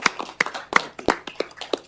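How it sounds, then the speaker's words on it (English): A round of applause for an anniversary at a council work session: a small group's hand claps, close and sharp, in a short uneven burst. "we'd like to wish you happy anniversary with a round of applause"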